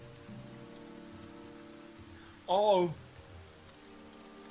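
In the video game The Banner Saga 2, rain falls steadily over a bog as a soft, continuous patter, briefly interrupted by a short spoken exclamation partway through.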